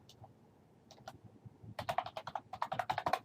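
Someone types the word Simulink into a computer keyboard's command window, a few scattered keystrokes followed by a quick run of close, crisp key clicks.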